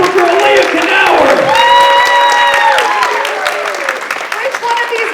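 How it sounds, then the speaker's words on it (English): A live comedy roast audience bursts into loud, sustained applause and cheering, with an amplified voice talking over the crowd the whole time. "big round of applause for our panel, Supergirl, Leah, Knauer."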